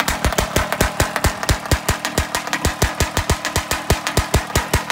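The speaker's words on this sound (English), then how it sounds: "I'm going to break in this engine, do a couple of heat cycles." A Primal RC 50cc dragster engine with an SF RC50cc/BR drag pipe runs just after its first start-up, with a loud, close, rapid popping beat that stays steady and has no talk over it.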